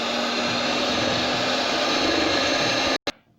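Steady whirring of an electric mixer or blender churning pancake batter until smooth, loud and continuous for about three seconds before cutting off abruptly, with a brief restart.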